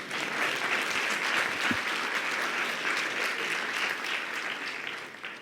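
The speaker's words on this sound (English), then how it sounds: "Giving him applause again." Audience applause for a speaker at a talk on hyper growth, a steady, moderately loud wash of many hands clapping that holds evenly for several seconds, with no speech over it.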